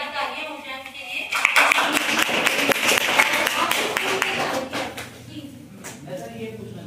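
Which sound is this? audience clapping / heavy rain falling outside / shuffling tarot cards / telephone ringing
audience clapping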